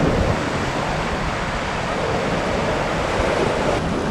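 Ocean surf on a wild, exposed Canadian beach beside a tide pool, heard as a steady, loud, unbroken roar of breaking waves mixed with wind rush.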